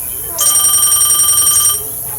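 A telephone rings in one short burst of bright, steady electronic tones, fairly loud and close, with no talking during the ring.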